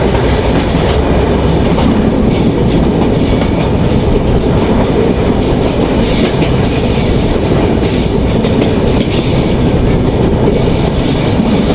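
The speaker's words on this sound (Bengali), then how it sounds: "এই বেনাপুল এক্সপ্রেস পুকুরিয়া রেল স্টেশনে দাঁড়ায় না" The Benapole Express passenger train runs through Pukuria railway station in Bangladesh with a loud, unbroken roar of wheels and cars, steady rail clatter and occasional squealing from the wheels.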